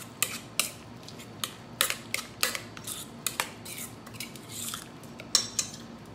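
A spoon or utensil clinks and scrapes against a bowl while sandwich filling is mixed, a quick irregular run of sharp, close taps and scrapes at moderate volume with no talking.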